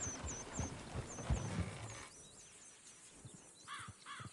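Horses clop and move in a rural game setting, with soft hoof thuds early on while insects or birds chirp in the background.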